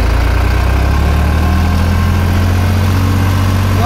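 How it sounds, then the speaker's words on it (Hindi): A New Holland 3630 tractor runs steadily with an 8-foot rotavator engaged on its PTO, giving a loud, continuous low engine drone and mechanical churn close by, with no talk. "तो देखिए पीटीओ चल पड़ी है, रोटावेटर चल पड़ा है।"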